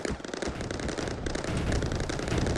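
Rapid bursts of turret fire in the strategy game Mindustry, a dense, continuous crackling barrage that stays loud and busy throughout with no voices.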